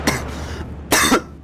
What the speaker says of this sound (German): Ja, natürlich wird der Husten jetzt ganz stark.